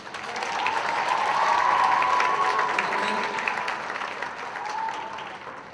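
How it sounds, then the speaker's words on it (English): A large audience at the Mr. Vineland 2022 pageant applauds its eight contestants, a steady wash of clapping with some cheering that swells, holds and then slowly tapers off, with no voices over it. "Let's give a round of applause for our 8 contestants"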